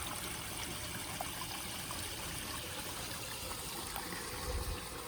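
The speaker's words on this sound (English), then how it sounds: "There's the little waterfall." A small garden waterfall recirculated by a pump trickles steadily and softly outdoors, a continuous gentle splash of falling water with no voices over it.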